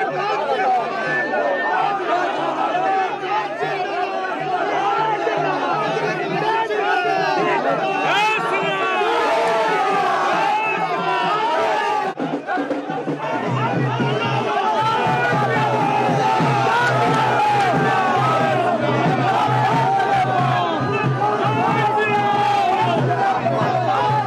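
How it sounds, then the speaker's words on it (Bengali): BJP supporters at a Bardhaman-Durgapur election campaign welcome for Dilip Ghosh chant a slogan in a dense, loud crowd. Overlapping voices and babble keep going without a break. "চলল নতুন স্লোগান, হাউ ইজ দ্য জোশ দিলীপ ঘোষ।"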